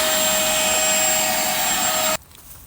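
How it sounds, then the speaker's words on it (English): A wet-dry vacuum cleaner sucks sand out of a side-mount aquarium filter, a loud steady close whine and rush that cuts off abruptly near the end, leaving only faint room noise. "I like to use a wet dry vacuum cleaner"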